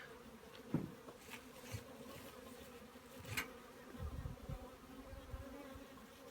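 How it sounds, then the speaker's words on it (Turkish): Italian honeybees hum and buzz around a hive frame in a continuous low drone, with individual bees zipping close past at moments, fairly quiet overall. "İtalyan arısı arkadaşlar."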